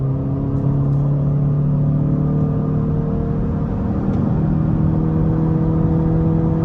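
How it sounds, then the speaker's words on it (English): 2024 Honda Civic Sport engine pulling at half throttle from inside the cabin, a steady loud droning hum with rising engine tones and road rumble throughout, no talking. "we'll lean into it a little bit more, about half throttle."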